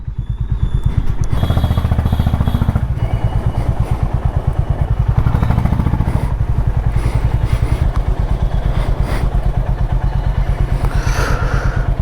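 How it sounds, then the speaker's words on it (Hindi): A Honda Highness motorcycle idles close by while being parked at home after a long highway ride, its steady low thumping engine pulse running throughout with some clatter, rising slightly and then settling. "बस अब यहाँ बाइक पार्क करते हैं।"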